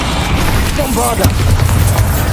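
A Bombarda spell detonates in Hogwarts Legacy, a loud booming blast with dense crackling rumble filling the short stretch, with a brief voice call layered in.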